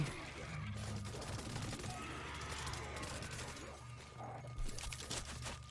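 Suppressed AK-103 rifle fire in the zombie shooter World War Z on hard difficulty, a steady stream of muffled rapid shots with mechanical clatter and crashing impacts filling a busy battle mix.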